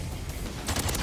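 Bursts of MTZ 556 rifle fire in Modern Warfare 3, loud and close, a rapid volley of shots that picks up sharply in the second half over steady game ambience.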